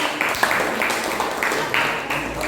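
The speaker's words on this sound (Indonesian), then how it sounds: "Tepuk tangan untuk Sandi." A classroom group claps together in a quick rhythmic pattern, repeated bursts of hand claps filling a room.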